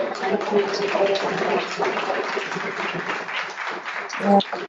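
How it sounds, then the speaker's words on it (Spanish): Applause for a pastor fills a church gathering, a dense, steady wash of clapping from a crowd that holds at an even level for several seconds and swells briefly near the end. "Así que un nuevo aplauso para el pastor."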